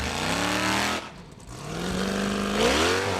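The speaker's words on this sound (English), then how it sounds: "this car is not lacking horsepower, that is for sure. Thor, one of the beefiest engines you'll find in Formula Offroad." Thor, a powerful Formula Offroad car with one of the beefiest engines, revs hard at an Icelandic event in Egilsstadir, roaring loudly, dipping briefly, then climbing again in pitch as it accelerates.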